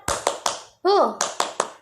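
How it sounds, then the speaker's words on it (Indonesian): Children in a primary classroom perform a patterned clapping chant: three sharp claps, a brief shouted voice in the middle, then three more claps, all close and crisp. "kita sama-sama tepuk semangat ya"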